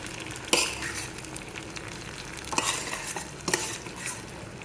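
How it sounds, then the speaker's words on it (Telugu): Stirring and soft sizzling as lentils and spices fry in ghee for a tempering, with a few sharp scrapes of a spoon against the pan over a gentle frying hiss. "చక్కగా నెయ్యితో తాలింపు పెట్టేశాను"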